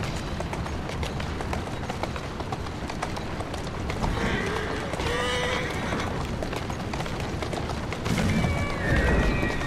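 Hooves of a horse-drawn carriage clip-clop steadily in the video game Assassin's Creed Syndicate, with a busy, rumbling street bed and brief tonal game sounds layered on top, close and continuous throughout.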